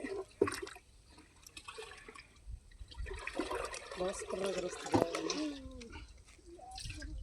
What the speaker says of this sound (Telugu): ఈ పది కేజీల ప్యాడ్ని ఫస్ట్ ఈ వాటర్లో కలుపుకోవడం జరుగుతుంది